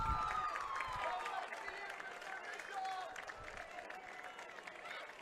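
Distant crowd applause and cheering at a high school boys soccer championship rise in a broad wash, with scattered whistles and voices mixed through the steady roar.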